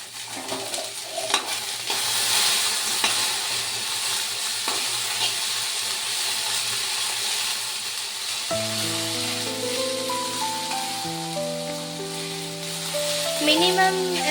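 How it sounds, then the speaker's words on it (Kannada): Capsicum fries with salt on a pan, making a steady sizzle with stirring scrapes. After about eight seconds, background music comes in and plays over the frying. "ಮತ್ತು ಇದನ್ನು ದೊಣ್ಣೆ ಮೆಣಸಿನ್ಕಾಯಿ ಫ್ರೈ ಮಾಡ್ತೀನಿ."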